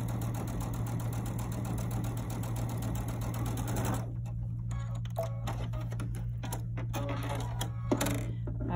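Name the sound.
sewing machine stitching quilt pieces together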